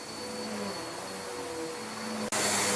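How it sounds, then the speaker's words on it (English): A vacuum cleaner runs during deep cleaning of a room in a home, with a steady, loud whooshing motor roar. The roar briefly dips, then surges slightly louder as the nozzle moves. "We're now vacuuming it."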